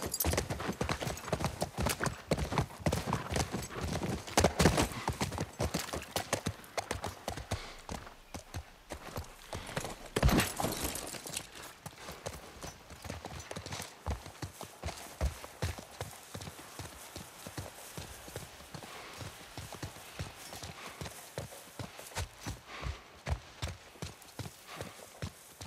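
Horse hooves clip-clopping at a steady gallop in The Last of Us Part I video game, a dense rhythmic run of close hoof impacts lasting throughout, with an occasional whinny and no talk.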